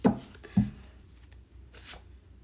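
Two crisp riffling bursts of tarot cards being shuffled, close up, followed by a softer flutter and a brief papery swish near the end.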